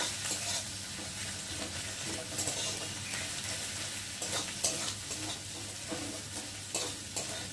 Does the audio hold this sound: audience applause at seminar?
no